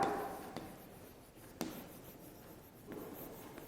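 Pen or pencil scratching across paper while writing a formal letter in a classroom, soft continuous scribbling with a few faint taps, close and quiet, no talking.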